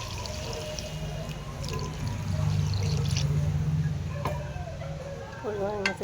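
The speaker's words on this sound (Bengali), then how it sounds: "জল দিয়ে দিয়েছি।" Water pours steadily into a kadai of cooked spices with fried drumsticks, a continuous close wash of liquid with faint dripping, ending in a few small clatters.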